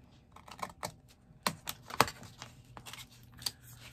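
Scissors snip paper corners square for a junk journal, a series of crisp, close clicks and cuts spaced irregularly over a few seconds, quiet between strokes.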